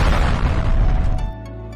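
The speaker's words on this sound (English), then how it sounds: "I'll set the TNT right next to your house, and then it explodes!" TNT explodes in a video game, a loud, dense boom that rumbles for over a second before settling into a lower steady hum.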